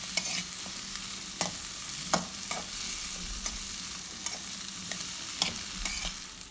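An eggplant kothsu mixture fries in a pan while being stirred, a continuous soft sizzle punctuated by irregular scrapes and taps of the spoon against the pan, close-up and fairly quiet, no talking.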